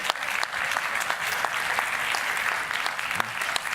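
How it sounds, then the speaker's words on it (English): An audience at a public speaking talk breaks into a steady round of clapping, dense and sustained at an even level from start to finish, with a few louder individual claps standing out. "Round of applause for this gentleman right here."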